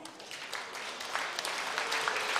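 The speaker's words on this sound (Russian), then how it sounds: "Аплодируем Джафарову Фахри." Audience applause at a music festival in Yaroslavl, broadband clapping that rises slightly and holds steady throughout, with scattered sharper claps and faint voices.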